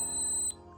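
A Zigbee smoke detector sounds its shrill, steady electronic alarm tone after a smoke test, then cuts off abruptly about halfway through, leaving a faint residual hum.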